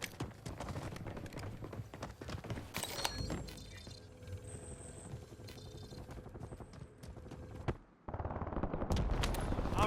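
Gunfire in a Call of Duty match, with bursts and shots crackling over a dense mix of game effects and rumbling engines, loud and close throughout, with heavier low-end bursts near the end.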